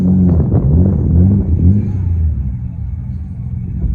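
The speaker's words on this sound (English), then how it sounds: "You're backing up right next to my car right there." A car engine rumbles low and close, revving slightly as it moves slowly, with muffled voices in the background.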